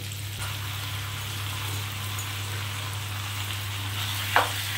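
Steady sizzling and frying in a hot pan as chicken is added to half-fried onions, a constant crackling hiss with a low hum underneath and a brief clatter near the end.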